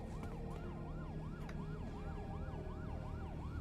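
Wailing police-style sirens from City of Heroes, an MMORPG from 2004, cycle in a steady repeating rise-and-fall pattern, loud and continuous over a constant background hum throughout.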